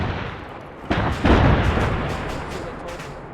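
Artillery fire in a military video game: a couple of heavy, booming blasts land in quick succession over a constant rumbling battlefield background, with voices faintly present.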